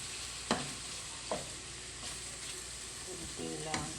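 Chicken adobo frying and bubbling in a pan with soy sauce, a steady close sizzle broken by a few sharp utensil scrapes and clicks against the pan.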